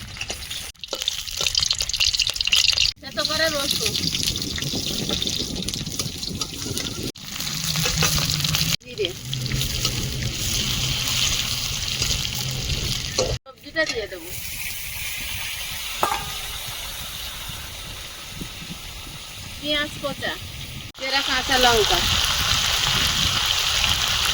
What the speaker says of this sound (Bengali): টপ টপ করে আওয়াজ হচ্ছে শুকনো লঙ্কা তেলে দিয়ে দিলাম